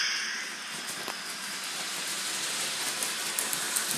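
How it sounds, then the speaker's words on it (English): A steady high hiss and whir of a small model train running continuously on its track, fairly close, with faint clicks near the end. "This is a beautiful little train."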